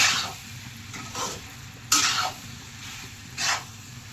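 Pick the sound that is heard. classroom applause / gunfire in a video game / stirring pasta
stirring pasta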